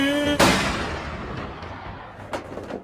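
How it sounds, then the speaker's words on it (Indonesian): A single sharp gunshot from a pistol in a Korean action film, loud and close, with a reverberant tail and a fainter crack or thud following about two seconds later. "Dan ia pun mati tertembak."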